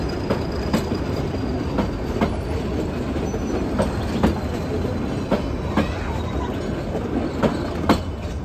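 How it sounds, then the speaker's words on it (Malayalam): A train rolling past a tea estate near Ooty, with steady rumbling and a regular clickety-clack of wheels over rail joints, loud and close throughout without talk. "ട്രെയിൻ പോകുന്നുണ്ട്."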